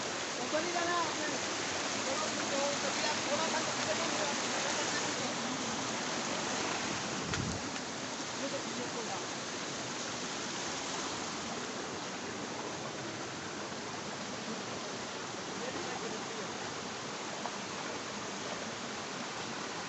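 The Kutli Bag waterfall gives a dense, unbroken roar of falling and rushing water, steady and loud for the whole stretch.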